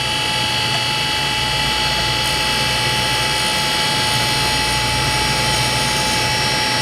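A cutter grinder wheel slowly traverses across a carbide insert, giving a loud, continuous high-pitched whine and hiss that stays steady and close throughout.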